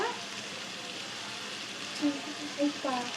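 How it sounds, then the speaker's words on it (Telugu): Drumstick pieces and tomato cooking in a pan, a steady, close sizzle with a few soft stirring knocks near the end. "ఇలా మిక్స్ చేసుకొని ఇది మా మునక్కాయ, టమాటా కొంచెం మగ్గాలి"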